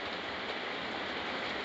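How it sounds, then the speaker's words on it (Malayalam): Rain falls in a steady, even patter, a soft continuous hiss of drops on surfaces that carries on without pause and without any speech. "മഴ മഴ മഴ"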